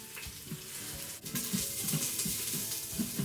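Cubes of short rib brown in a hot pan, a bright continuous sizzle broken by a quick stir and a few soft scraping bumps from a spoon or spatula.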